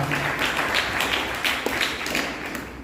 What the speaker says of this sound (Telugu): గట్టిగా చప్పట్లు కొట్టి వీరందరినీ కూడా అభినందించాలి